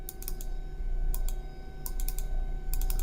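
Rapid bursts of clicking from a computer mouse, arriving in quick clusters repeated several times over a steady background hum, close and fairly loud.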